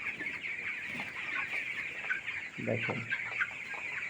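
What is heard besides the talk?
broiler chickens clucking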